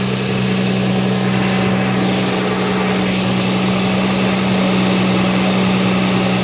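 The 4.0L V6 of a 2006 Toyota Tundra runs at a steady idle during a transmission fluid exchange, with a constant low hum and broad mechanical noise and no talk.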